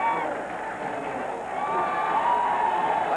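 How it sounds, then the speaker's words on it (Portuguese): Brazilian fans in the grandstand roar and cheer at the 1990 Japanese Grand Prix podium, a continuous, loud crowd swell with babbling voices and shouts that builds slightly toward the end. "Fica a festa da torcida brasileira"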